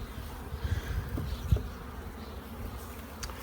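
A honeybee colony buzzing steadily at an apiary hive while an artificial swarm is being made, a close, continuous drone with a few louder thumps and bumps from handling.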